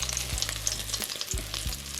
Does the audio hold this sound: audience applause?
no